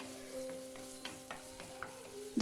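Prawns sautéing in oil in a home kitchen pan, a low steady frying hiss with a few soft stirring scrapes and a louder clatter at the very end.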